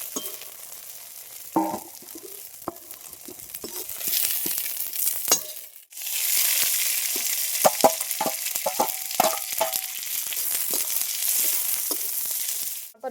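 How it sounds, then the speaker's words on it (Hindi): Sliced okra frying and being stirred in a pan for masala bhindi, a steady close sizzle broken by frequent sharp scraping and clinking stirs, with no speech. "इसको चलाते हुए ही भिंडी को भूनेंगे"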